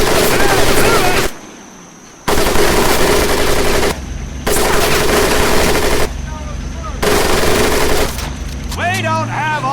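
Machine gun fire in Medal of Honor Pacific Assault, a loud, continuous rattle broken by brief gaps, with battlefield noise and voices shouting over it.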